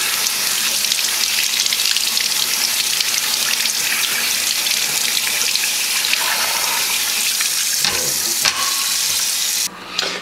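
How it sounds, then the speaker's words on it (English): Cold tap water runs steadily as raw chicken is rinsed in a kitchen before grill roasting, a constant splashing hiss, ending with a couple of brief knocks. "So I'm gonna rinse it off here in cold water."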